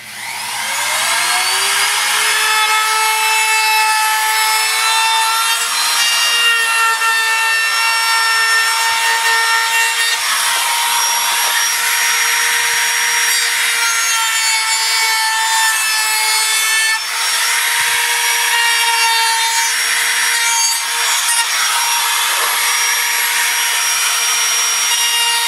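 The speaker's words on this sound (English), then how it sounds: "I'm going to sit there and round over on the outside edge with my router bit. I've got this handheld palm router" A handheld palm router rounds over the outside edge of a wooden box for a sign, a loud, steady high-pitched whine that holds for the whole stretch with slight shifts in pitch as the bit cuts, no voices.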